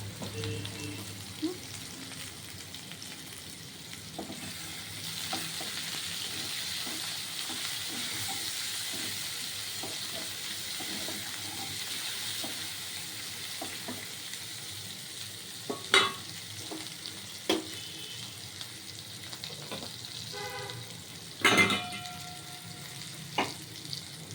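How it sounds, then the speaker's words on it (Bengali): Ginger frying with a little sugar in a pan, a steady soft sizzle with occasional stirring clicks and scrapes growing more prominent toward the end, close and fairly quiet with no talk. "একটু চিনি দিয়ে ভাজবো এখানে দিয়েছি এই আদা"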